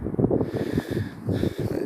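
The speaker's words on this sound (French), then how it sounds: "Il y a pas mal de vent" Wind buffets a microphone outdoors during a solar observation session, a steady low rumbling roar with gusty swells that runs unbroken through the whole moment, with no voices over it.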